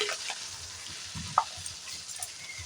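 Spinach paste frying with spices in a pan makes a soft, steady sizzle, with stirring scrapes and a brief clink of a utensil close by.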